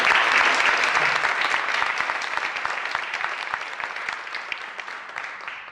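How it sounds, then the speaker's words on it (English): A crowd at a poetry event in Waterville, Maine applauds, a loud, dense wash of clapping that fills the room and slowly tapers off, with no talking over it. "So I think Tammy and her committee deserve a round of applause."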